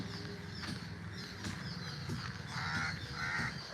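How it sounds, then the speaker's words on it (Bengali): A crow caws a few times outdoors near a swimming pool, harsh and moderately near, with faint background noise and no talking. "এই দেখো কাক যাচ্ছে কাক কাক কাক করে কাক চলে গেল"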